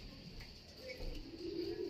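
Low, soft racing pigeon cooing, a brief murmuring call that swells toward the end, heard close by against faint background hum.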